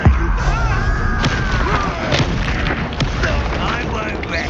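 Confringo blasting-curse explosions in the Hogwarts Legacy video game, a loud, continuous rumbling barrage of booms with sharper cracks on top, under game noise.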